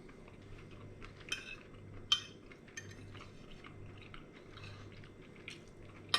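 Someone chewing a pork chop served with spinach and lovage, close and quiet, with soft wet bites and occasional sharp clinks of cutlery against a plate over a low steady hum.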